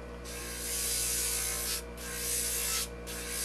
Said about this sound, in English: So here I'm beveling the front edge of them to make our 3 lifts.